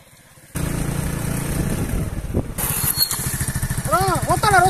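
A broken-down motorcycle engine starts and runs with a steady, rough rumble up close, as voices speak over it.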